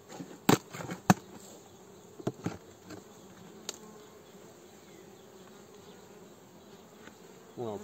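A honeybee colony on six frames, a late-season swarm being fed, hums in a steady, close drone inside the opened hive, punctuated by several sharp knocks and clicks from handling the frames.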